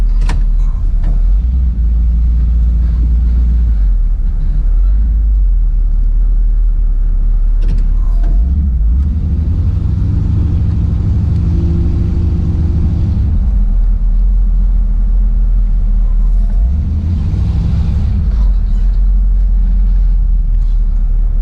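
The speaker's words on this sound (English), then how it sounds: "Car starts right up." A fully restored 1957 Buick Century Riviera sedan cranks and fires up, then settles into a deep, steady idle rumble, loud and close, with no talking.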